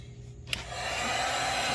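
A heat gun blows steadily to shrink a heat shrink solder connector joining two wires during a car stereo install in a second-generation Dodge Dakota, starting abruptly after a short quiet moment and then holding a constant close whoosh.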